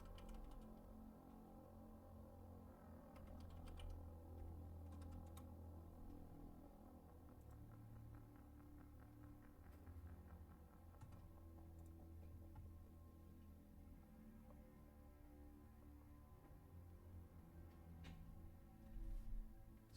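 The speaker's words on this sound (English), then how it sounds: "just a little bit more typing here" Quiet, intermittent clicking of keys on a computer keyboard, faint taps scattered over a low steady background hum.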